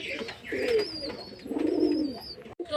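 Pet pigeons cooing close by, two soft, throaty rolling coos in succession with faint higher chirps behind them.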